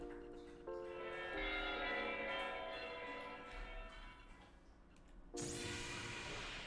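Chiming skill bells from an RPG Maker 2003 game ring in bright, sustained tones that fade gradually, followed by a second sharp bell strike near the end, with no speech.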